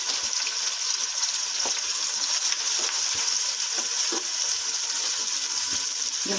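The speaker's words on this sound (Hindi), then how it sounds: "हमारा तेल गरम हो गया है। ये हमने अपनी प्याज डाल दी।" Onions fry in hot oil in a pot while cooking chicken korma, giving a steady close sizzle with occasional soft clinks and stirring sounds.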